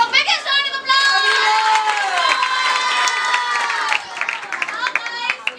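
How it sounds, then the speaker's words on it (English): Applause and cheering rise from an audience at a staged role-play event, a dense crowd roar with scattered shouts and clapping, mixed with nearby voices that break through as the sound thins toward the end. "Everyone, give a biggest round of applause."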